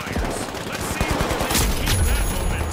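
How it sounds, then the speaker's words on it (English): Rapid gunfire from a first-person shooter match in The Finals, dense bursts of shots layered over game effects, with players talking over the action throughout. "Shoot in the back. Shoot in the back."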